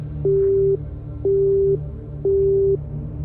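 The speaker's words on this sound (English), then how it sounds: "The line clicked and went dead." A dead phone line's tone as a sound effect: three evenly spaced, steady, loud beeps, each about half a second long, each followed by an equal pause, over a faint low hum, with no talking.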